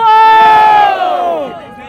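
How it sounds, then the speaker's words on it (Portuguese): Crowd at a Brazilian rap battle in Barueri, São Paulo roars with loud, sustained cheering and shouting that swells at first and then slowly fades. "Barulho pro Alvarenga"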